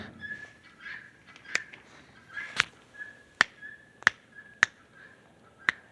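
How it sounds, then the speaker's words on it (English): A guinea fowl kept with backyard chickens gives about six sharp, harsh calls at uneven intervals, loud and close, with quieter chattering between them and no speech. "sorry about the bird in the background. We got chickens and a guinea, and the guinea always decides to wait until I start filming."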